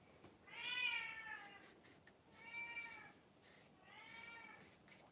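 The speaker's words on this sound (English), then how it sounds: "That's my cat." A cat meows three times, long drawn-out cries spaced about a second apart, fairly faint and alone in a quiet room.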